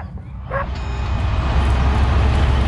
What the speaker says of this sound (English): What about the dog?